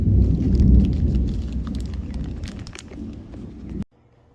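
A loud thunderstorm with rain rumbles and hisses outdoors, a heavy low roar with crackling rain texture that cuts off abruptly near the end.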